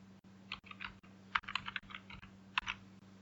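Quiet, close typing on a computer keyboard: a scattered series of soft key clicks at an uneven rhythm, with no talking.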